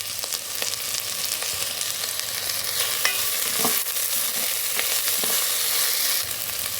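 Mint and coriander fry in a pan for bagara rice, giving a steady loud sizzle with occasional stirring scrapes and clicks throughout.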